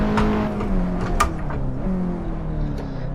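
A race car engine in the Assetto Corsa driving game hums steadily at close range, its pitch rising and falling as the car accelerates and shifts, with a short break in tone partway through.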